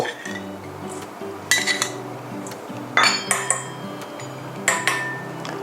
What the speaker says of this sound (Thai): ผมเริ่มต้นผสมซอส ของ ผมตามสูตรก่อนนะครับ